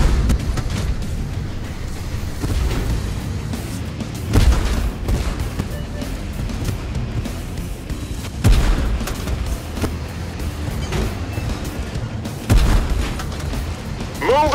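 Artillery bombardment in the tank video game Tank Force, with heavy booms landing roughly every four seconds over a constant rumbling battlefield din.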